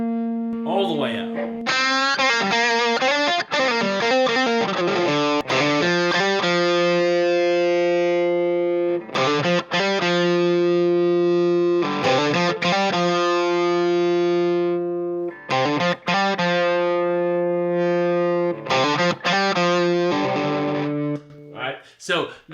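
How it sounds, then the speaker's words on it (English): A Boss overdrive pedal cranked to full drive saturates an electric guitar, with long sustained chords and riffs separated by brief pauses, loud and hot throughout. "Let's turn up that drive, see how hot it gets."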